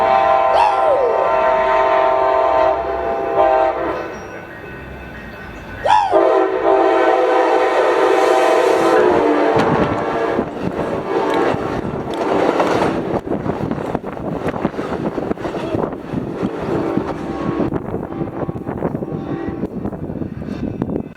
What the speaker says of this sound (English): next train would be Amtrak 784 with SC44 Charger 2122 leading